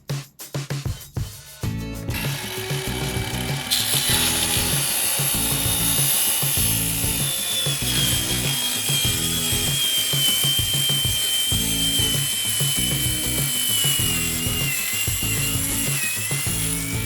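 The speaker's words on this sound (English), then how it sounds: "and then we're going to use a drill" Cordless drill driving 1 3/4 inch screws through 1 inch R5 insulation board into plywood in an RV: a steady, loud whirring drive with a rhythmic low chatter running continuously after a few short starts.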